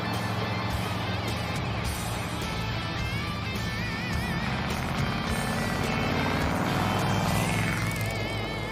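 A 1972 Plymouth Duster with a bad exhaust system drives along, its rough, loud, droning engine note roaring continuously throughout.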